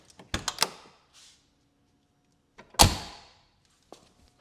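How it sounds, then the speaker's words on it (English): The doors of an old Porsche 944 are handled close up: a latch click and a couple of quick rattles, then a solid slam about two seconds later, with faint mechanical clicks between, no talk. "When you're getting in and out of the interior, you get to open and close the doors, which is one of the greatest parts about an old Porsche."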